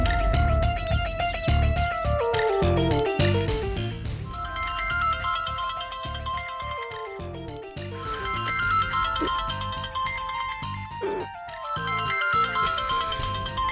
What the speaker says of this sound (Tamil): இந்த ஃபோன் எடு